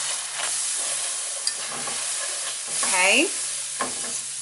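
Flour being stirred into a sizzling pan mixture for scalloped sweet potatoes, a steady frying hiss with scraping spoon strokes, close by, and one brief spoken word.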